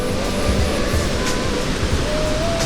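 Steady, continuous rush of a small waterfall near a lakeside inn in Nikko, Japan, loud and broadband, with no voices or breaks throughout.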